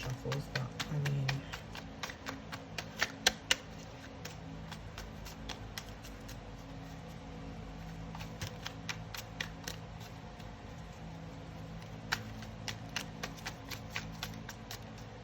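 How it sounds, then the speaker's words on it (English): Tarot cards being shuffled by hand at a reading, a run of quick soft riffling clicks and flutters, fairly close and quiet, in short bursts with gaps and low background hum. "I'd say two more shuffles"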